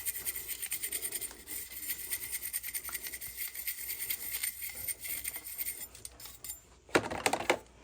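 A toothbrush scrubbing a soot-darkened part of a steam boiler during a tune-up, a quiet steady scratchy rubbing that carries on for several seconds before a brief louder clatter near the end.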